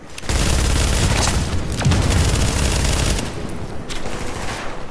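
Rapid gunfire from a high rate-of-fire weapon in a looter shooter game, a loud, sustained stream of shots with booming impacts and a short lull near the end.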